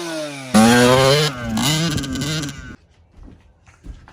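A Yamaha YZ85 dirt bike engine revving hard just after starting, a loud, raspy two-stroke blare that climbs and wavers in pitch for about two seconds, then cuts off, leaving faint clatter.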